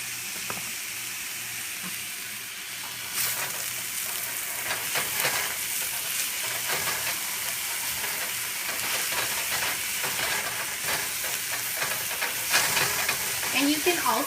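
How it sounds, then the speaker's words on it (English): Pancit bihon ingredients sauteing in a hot pan, a steady close sizzle and hiss with scraping stirs that grows busier after a few seconds. "go ahead and saute this for about 3 minutes"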